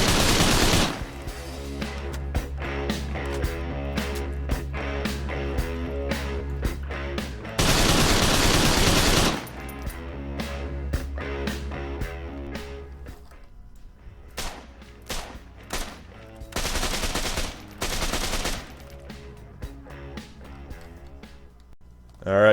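Rifle fire in Arma 3 Marksmen DLC, loud sharp shots fired in rapid bursts and strings with a few sustained automatic stretches, each report ringing out over a low rumble, recoil left uncontrolled.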